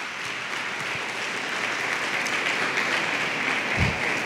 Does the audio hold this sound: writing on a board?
no